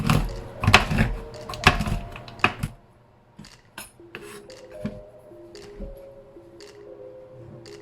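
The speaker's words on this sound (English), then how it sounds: "And I'm gonna give them a quick chop." Quick knife chops through cashews on a cutting board in a home kitchen, a burst of sharp, close taps over the first few seconds, followed by quieter scattered clicks and light clatter.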